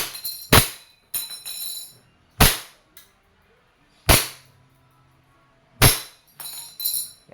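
An E&C Glock 34 airsoft pistol fires six sharp cracks, close and loud, with the shots spaced unevenly about a second apart. Lighter clicks and rattles sound between some of the shots.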